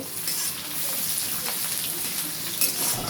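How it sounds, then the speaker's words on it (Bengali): Chopped onion frying in hot oil, giving a steady, dense hiss and crackle throughout, close and continuous, with faint stirring ticks and no voices. "কুচনো পেঁয়াজ, ভেজে নেব"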